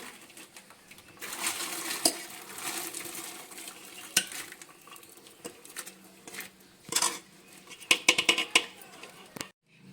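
Sago pearls tip into a pot of boiling salted water on a gas stove, giving scattered clinks and light metallic knocks against the pot plus soft splashy rustles. A burst of sharper clatter comes near the end, with no voices.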